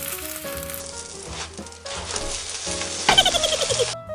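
An egg pancake fries in a pan with a bright, close sizzle that starts, breaks off and resumes louder, with a burst of crackling and spatter toward the end.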